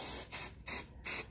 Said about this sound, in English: Right now, I'm just gonna spray it down.